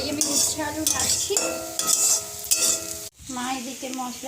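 Bitter gourd and potato pieces fry in a pan in a home kitchen, a steady sizzle broken by the scrape and clatter of stirring against the pan, with a brief dropout near the end.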